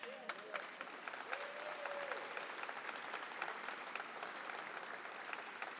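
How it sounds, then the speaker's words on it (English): Sustained audience applause for the Los Angeles mayor at a transit agency's annual State of the Agency event, a dense steady wash of many hands clapping with faint voices mixed in. "let's give a big round of applause to my friend Karen Bass."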